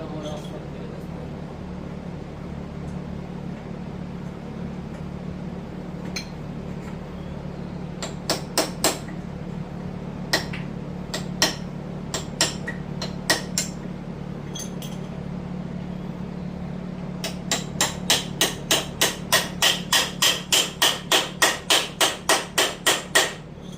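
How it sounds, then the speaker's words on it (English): A hammer drives a punch against a broken 8.5 28-spline axle: scattered sharp metallic blows, then a fast even run of about fifteen strikes, all over a steady low background hum. "Just gonna hit it with a punch, see what happens."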